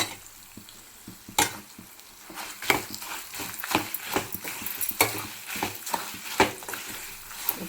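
A spoon scrapes and stirs a rice mixture for pulihora in a pan, giving irregular clinks and scrapes over a soft sizzle, with no voices.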